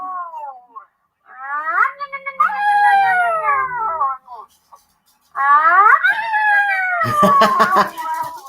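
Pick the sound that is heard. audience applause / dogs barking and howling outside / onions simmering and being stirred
dogs barking and howling outside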